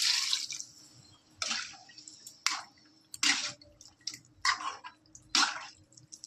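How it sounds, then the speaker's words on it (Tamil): Water added to a simmering chicken gravy in a pan, heard as a series of soft splashy drips and gurgles spaced about a second apart, close and faint, with no talking. "இந்த நேரத்தில் நம்ம கொஞ்சம் தண்ணி சேர்த்துக்கலாம்."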